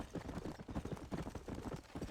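Horse hooves clip-clop steadily in the video game Red Dead Redemption, a dense rhythmic patter of thuds under a continuous low ambient wash, fairly faint and with no speech.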